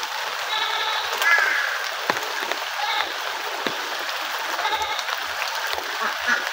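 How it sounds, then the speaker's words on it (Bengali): Steady rain falls outside on a wet day, a continuous soft hiss of drops on surfaces with occasional sharper patters, while a faint bleating animal and a distant voice sound now and then. "বাইরে আজকে সারাদিন বৃষ্টি,"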